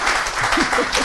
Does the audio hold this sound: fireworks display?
no